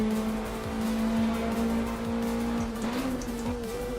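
Caterham 7 420R engine in the Assetto Corsa racing sim, droning loud and steady at fairly even revs, rising slightly near the end, with faint patter beneath and no talk.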